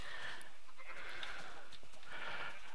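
Sheep in Minecraft bleat several times in quick succession, nasal wavering calls that overlap and come close and fairly loud, with no talking.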